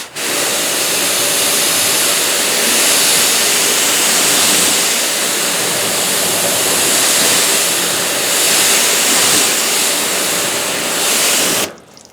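A water hose sprays onto car paint freshly coated with an SiO2 sealant spray, a steady loud hiss of rushing water running unbroken for about twelve seconds before cutting off abruptly.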